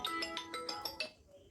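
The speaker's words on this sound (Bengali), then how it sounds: "ফোন করছে, দেখি" A phone ringtone plays quietly, a steady pulsing run of about six tonal beeps that stops abruptly, leaving faint room noise.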